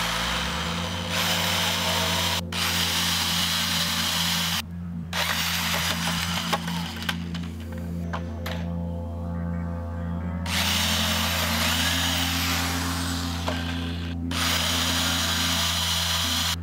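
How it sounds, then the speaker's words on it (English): A power drill bores holes in a synthesizer dual mixer front panel, a loud steady whine with pitch shifts and brief pauses between holes, continuing for a long stretch. "Now let's go and drill them."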